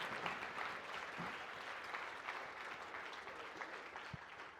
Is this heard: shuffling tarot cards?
no